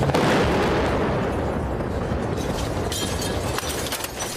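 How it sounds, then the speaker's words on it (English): Airstrikes and shelling pound the besieged city of Mariupol, heard as a loud, rumbling blast whose roar slowly decays over several seconds, followed by fainter crackles and a distant pop. "Multiple airstrikes pounded the besieged city of Mariupol."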